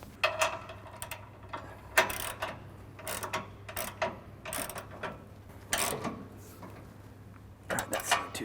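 Bolts on an Ironman 4x4 Raid rear bumper on a Toyota Tundra being snugged up, with repeated short ratchet clicks in bursts at close range over a low steady hum.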